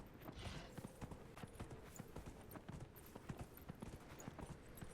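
Horse hooves clip-clopping in Dragon Age Inquisition, a steady, quick run of soft hoof beats on ground, faint and continuous with light ambient game noise behind, no talking.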